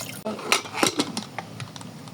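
A pressure cooker holding chicken is set down on a stove with several sharp metallic knocks and clatters, close and fairly loud, amid scattered kitchen noise.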